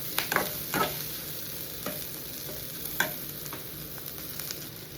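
Food fries in a pan on a gas stove turned to high flame, a constant close sizzle broken by several sharp scraping stirs and spatula knocks, with no voices.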